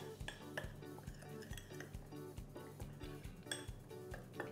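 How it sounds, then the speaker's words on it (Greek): Salt and pepper are stirred together in a bowl, a steady run of small clinks and scrapes from the utensil against the dish, close-up and fairly quiet. "Τα ανακατεύω πρώτα αυτά πάρα πολύ καλά."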